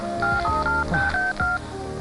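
Telephone dialing tones, a quick run of about eight beeps in an uneven rhythm, loud and close, with a low background hum underneath.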